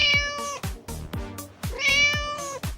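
A cat meows close up in a quick series of distinct calls, roughly eight in a row, loud and clear with short pauses between.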